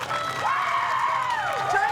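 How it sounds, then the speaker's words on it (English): A crowd at a pickleball women's doubles gold medal match cheers and whoops loudly and steadily, with high voices rising above the roar. "The crowd comes alive."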